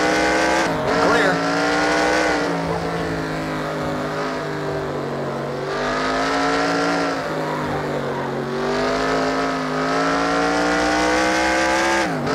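Stock cars race around a track in the NR2003 racing game, engines droning and shifting pitch continuously with tire squeal, a spotter's voice talking over the roar.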